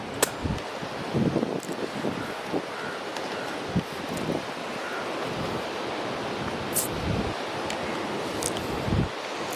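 Sea waves wash against the rocky shore outside the old fort walls at Galle, Sri Lanka, a steady broad rush of surf with gusty wind buffeting the microphone and scattered knocks from walking.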